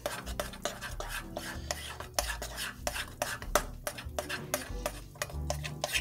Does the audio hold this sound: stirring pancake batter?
yes